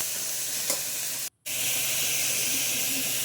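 Salted vegetables frying in a pan as they are stirred, a loud steady sizzling hiss close by, one faint clink and a brief dropout, with no voices.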